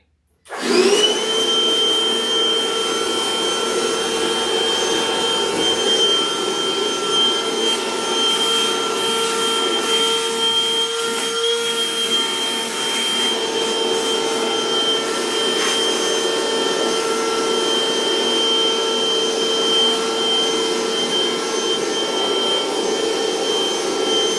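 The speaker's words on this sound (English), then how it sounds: "I'm gonna start vacuuming again." A vacuum cleaner starts abruptly and runs loud and steady close by, a constant roaring hum with a piercing tonal whine throughout and slight shifts in pitch, with no talk over it.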